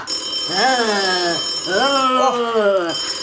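A warbling electronic ringtone rings in two long bursts, rising and falling in pitch, fairly loud and close, with no talking.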